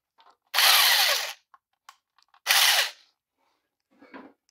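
An impact wrench works on a bolt of a Cub Cadet RZT L 54 inch zero-turn mower in two loud, rattling bursts under a second long, separated by quiet, with small clicks and a faint short burst at the end.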